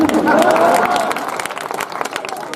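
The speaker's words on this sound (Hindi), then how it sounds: "तालियां बजाओ" An audience at a Hindi poetry recital breaks into applause for a poet on stage, a dense burst of clapping that gradually thins out, with a voice briefly heard at the start.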